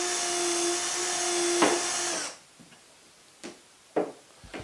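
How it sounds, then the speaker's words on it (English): A high-pitched power drill whines steadily for about two seconds while drilling out a hole in a tracksaw cutting station extension, then stops, followed by a few scattered knocks and clicks nearby. "So now we're going to just drill out these 3 holes"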